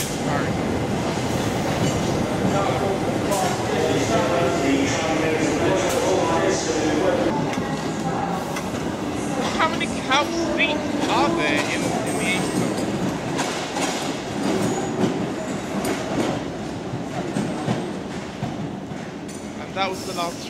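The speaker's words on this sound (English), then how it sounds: "That was the last train." A London Underground train runs steadily underground, a loud continuous rumble with rattling wheels and metallic squeals rising and fading throughout.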